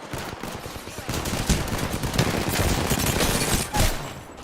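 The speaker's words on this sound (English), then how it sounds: "who's shooting from where? Taking fire." Dense gunfire from the video game Apex Legends, overlapping bursts of shots crackling continuously at close range for several seconds, with heavier spikes near the end.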